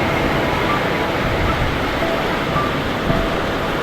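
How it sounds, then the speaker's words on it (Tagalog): A sudden heavy downpour of rain makes a dense, even roar all around, close and loud, with no breaks for nearly four seconds. "Lakas ng ulan mga kajoks. Grabe, biglang buhos oh."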